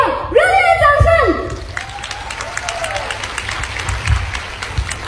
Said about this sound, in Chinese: 给自己一个热烈的掌声